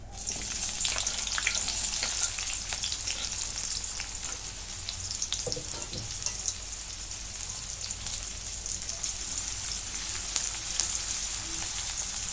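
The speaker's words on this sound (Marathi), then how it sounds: "कांदा जरा दोन मिनटं भाजून घेते आता कांदा चांगला लालसर भाजून घेतला" Onion frying in oil in a pan with cumin, a loud, dense crackling sizzle close by, steady for the whole stretch with occasional scraping stir sounds.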